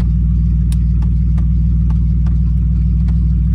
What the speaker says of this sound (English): Y'all know how these cars be doing that ticking and stuff.